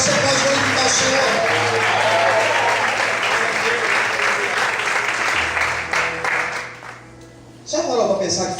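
Church congregation applauding in praise during a sermon about Zacchaeus, sustained loud clapping for about seven seconds that thins and drops away near the end before a voice resumes.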